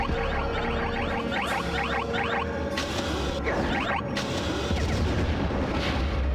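Rumbling explosions and mechanical battle noise from missile launchers in the Star Wars Rogue Squadron video game, a dense continuous din with several louder blasts bursting through, no talking.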